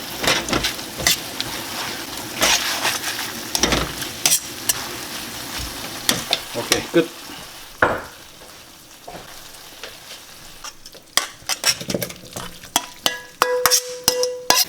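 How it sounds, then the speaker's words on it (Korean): Starch-thickened black bean sauce for ganjjajang is stirred in a hot wok, with sizzling and frying underneath, scraping strokes and occasional clinks of a utensil against metal. A voice speaks briefly near the end. "마지막으로 물 전분 넣어서 걸쭉하게 만들어 줄게요"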